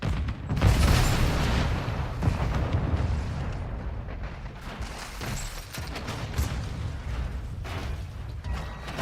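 A grenade blast in Call of Duty Modern Warfare II during a hardpoint multiplayer match, a loud booming burst with low rumble inside dense, continuous battle noise.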